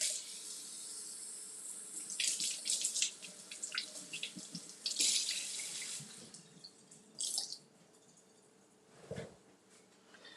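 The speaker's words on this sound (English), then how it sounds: "now let me rinse off our strawberries" Tap water runs steadily into a kitchen sink as strawberries are rinsed, with splashing swells and a few louder gushes, close by and with no talking.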